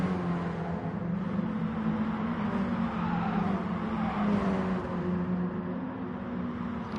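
Mini Cooper race car engine from a racing video game lapping Sardegna Circuit B, a steady droning hum with faint tonal shifts as it runs down the straight, loud and continuous with no voices.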